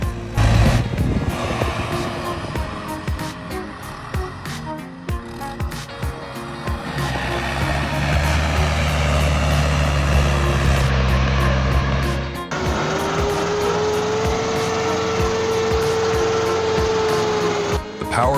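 A New Holland TD100 tractor stuck in mud, its engine roaring loud and steady with a rising, straining tone toward the end, and a deep low rumble through the middle.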